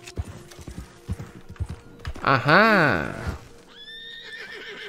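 A horse in the video game Red Dead Redemption 2 clip-clops along steadily, then lets out one loud, drawn-out whinny near the middle, while someone talks over the hoofbeats and a tonal game sound rises at the end.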